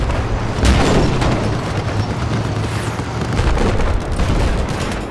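Dense gunfire and booming explosions from a Battlefield 4 match on the Golmud Railway map roll continuously at close range, with heavy rumbling blasts.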